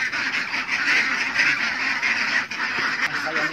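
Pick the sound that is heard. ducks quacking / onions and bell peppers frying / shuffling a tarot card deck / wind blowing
ducks quacking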